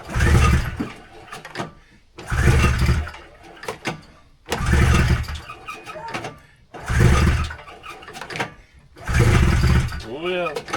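An over-choked go-kart engine being pull-started for racing at Eagle River gives five loud sputtering bursts about two seconds apart. Each pull catches briefly, then dies back, with voices nearby.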